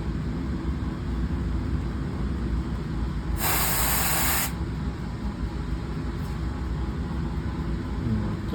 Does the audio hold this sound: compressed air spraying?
yes